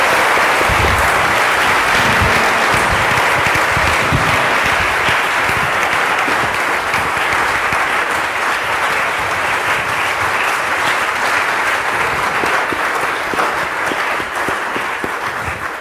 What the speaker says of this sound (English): Please join me in a round of applause to welcome Victoria Baptiste and Alfred Carter,